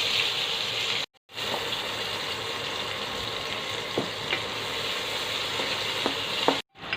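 Chopped onions fry with spices in a pan, giving a continuous close sizzle with faint clinks of stirring, broken by two brief silent cuts.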